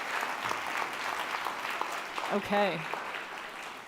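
Audience applause at a talk session, a moderate clapping wash with a brief spoken word cutting through near the end.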